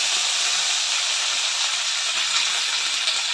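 Cumin seeds and curry leaves frying in hot oil in a pan, a loud, continuous bright sizzle and hiss close by, steady from start to end with no voices.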